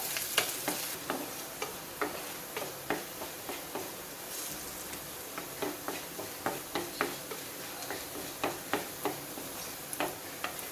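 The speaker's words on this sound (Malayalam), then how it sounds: "ഇഞ്ചിയും വെളുത്തുള്ളിയും ഒരു ബ്രൗൺ കളർ ആവുന്നത് വരെ വഴറ്റി കൊടുക്കുക." Ginger and garlic sautéing in a hot pan, a steady close sizzle with regular scraping stirs of a spoon ticking through it, no voices.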